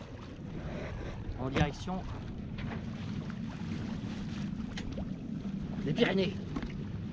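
A Dufour 375 GL sailboat under sail gives off steady wind rush and soft water noise, moderately loud and constant, while a person talks over it in short bursts.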